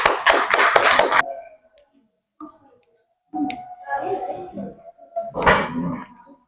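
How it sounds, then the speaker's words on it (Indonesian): A classroom group gives a short burst of hand clapping for the first presenting group, lasting about a second before it cuts off, followed by scattered voices and room noise. "Kita kasih kelompok 1 aplaus"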